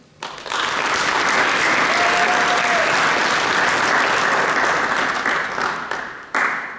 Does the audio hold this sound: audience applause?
yes